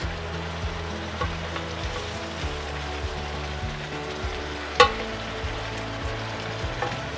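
Chicken adobo sautéing in a pan with some liquid, a steady moderate sizzle with soft stirring scrapes and one sharp clink of a utensil, close and without talk.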